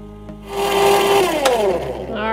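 A countertop ice cream maker churning lemon ice cream switches on, its motor rising into a steady whirring hum with a tonal whine, while a voice speaks over it.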